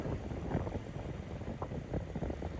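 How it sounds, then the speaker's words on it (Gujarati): Strong wind buffets the microphone outdoors near a dam, a loud, dense low rumble with gusty swells and no talk. "અત્યારે પવન પણ બહુ છે મિત્ર."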